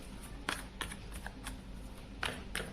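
Tarot cards are shuffled by hand, giving quiet, soft riffling bursts, a few short flicks spaced irregularly over low background noise.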